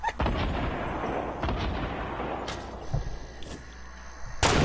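Gunfire in an online shooter game, a dense continuous barrage of shots with a few sharper cracks near the end, fairly loud throughout.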